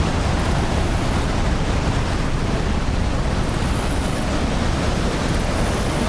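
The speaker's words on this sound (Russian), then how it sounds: "А вот это все часть Ниагарского водопада." Niagara Falls heard as a loud, steady roar of rushing water, a dense broadband wash that holds constant throughout with no voices over it.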